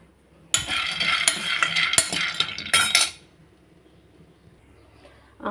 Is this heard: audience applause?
no